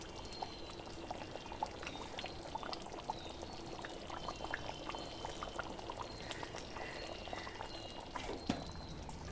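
Ghee trickles into a vegetarian jackfruit and potato curry as it simmers, a soft, quiet, continuous pouring and bubbling with faint scattered pops.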